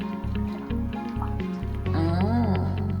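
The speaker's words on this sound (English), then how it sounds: "I will add as much milk as I like" Milk pours steadily into a cup of traditional Caribbean cocoa tea, a close, wet filling gurgle whose pitch shifts and rises near the end as the cup fills.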